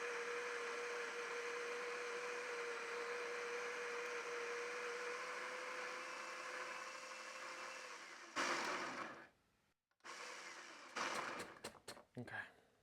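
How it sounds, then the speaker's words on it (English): A coffee grinder set to a finer grind whirs in a steady, continuous drone for about eight seconds, then gives way to a few irregular louder bursts and clatters near the end. "I'm going to put this setting to 6, create a finer grind"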